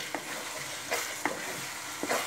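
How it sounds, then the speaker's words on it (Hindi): Tomato puree frying in a pan for a chicken dish, a steady sizzle broken by a few short scrapes of the spoon as it is stirred, with no talk. "देखिए 2 मिनट हो चुका है भूनते हुए मुझे टमाटर पेस्ट को भी"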